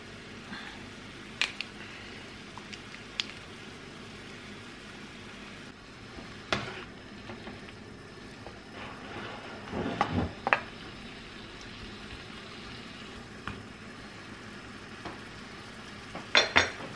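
Chicken tenders cook in a pan with balsamic vinegar, giving a low, steady sizzle with occasional soft clinks and stirring scrapes of a utensil against the pan.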